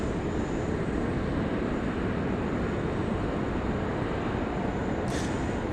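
A Qantas airliner enters runway 16 right at Sydney Airport, heading for Melbourne. A steady, dense roar of jet engines holds at an even level for several seconds, with no voices.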